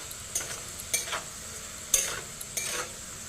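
Fried potatoes are lifted out of a pan, a few quick scraping stirs of a spatula over a faint sizzle, four short bursts spaced about half a second apart.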